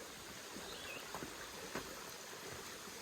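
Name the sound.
small waterfall along a river trail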